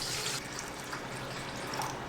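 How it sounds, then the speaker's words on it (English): Water runs quietly and steadily from a tap, a faint continuous splashing with no one speaking. "Water."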